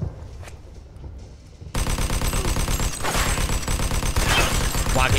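Magnum revolver gunfire in the video game Mafia II, a loud dense burst of rapid shots starting abruptly after a quieter stretch and continuing steadily to the end.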